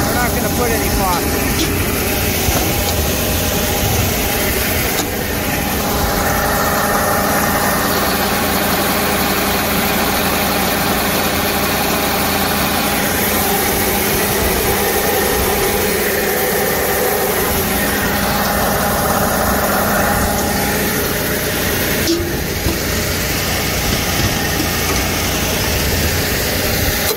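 A John Deere 5710 two-track tractor engine runs loud and close with a steady, rumbling idle-like drone and some vibration. A voice talks over it.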